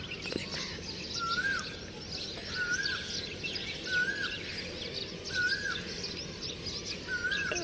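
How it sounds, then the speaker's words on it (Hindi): An Asian koel calls outdoors in a rural garden, repeating its clear whistled note about once a second, five times, at moderate distance over a constant buzz of insects and ambient noise. "देखा कोयल बोल बोल दी।"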